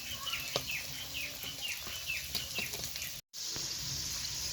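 Aloo toffee pakoras frying in hot oil produce a continuous crackling sizzle with repeated short chirpy pops, a brief dropout near the end, then the hiss resumes.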